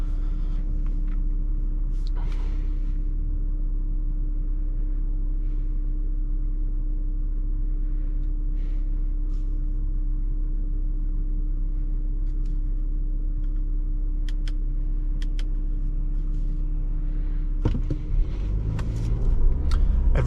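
A 2023 Audi Q5 Sportback's engine hums as a low, steady rumble from inside the cabin while driving, holding an even drone before a brief rise near the end.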